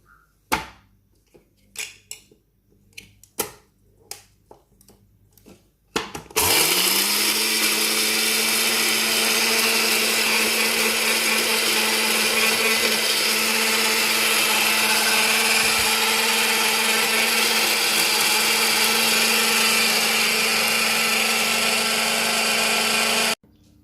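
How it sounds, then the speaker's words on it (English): Smoothie maker grinding dried lavender flowers at close range, starting after a few seconds of scattered knocks and clatter, then a loud, steady, high-pitched whir that runs unbroken for about seventeen seconds before cutting off. "Excuse the noise just for a second, but it's only take a couple of minutes just to grind all of those up."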